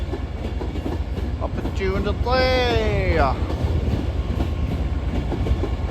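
Class 390 train, unit 390121, passing through Carlisle station, a steady rumbling roll with a brief rising and falling horn or brake squeal in the middle, a voice speaking briefly over it.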